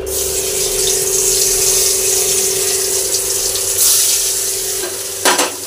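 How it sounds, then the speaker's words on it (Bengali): Paneer pieces sizzle loudly and steadily in hot oil in a kadai, a dense frying hiss that holds throughout, with a short clatter near the end. "কড়াতে তেল দিয়েছি, গরম হয়ে গেছে কড়াটা। এবার আমি পনিরগুলো দিয়ে দিচ্ছি।"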